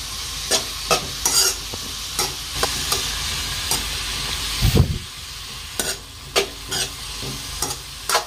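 Masala is stirred into a cabbage and egg fry in a pan, a constant sizzle broken by regular scraping and tapping of a spatula against metal, with one heavier clatter midway and no speech.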